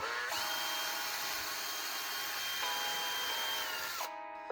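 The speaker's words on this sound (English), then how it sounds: "We got a brass wire wheel that we're gonna be using to clean all this up." Brass wire wheel spun by a drill, scrubbing metal engine parts at a workbench: a steady high whine with a scratchy brushing texture for about four seconds, then winding down abruptly, close and alone.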